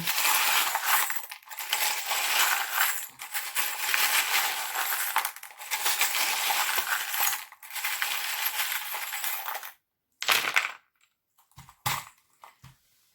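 Tarot reading charms shaken and cast in long bursts of dense metallic clinking and rattling, with short pauses between shakes, then a few scattered clattering drops as they land.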